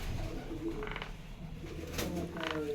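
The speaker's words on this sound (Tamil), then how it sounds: "ஓ, எல்லாமே புறா தான்." Pigeons cooing in a home garden where they nest, soft low coos recurring through the clip over a steady background.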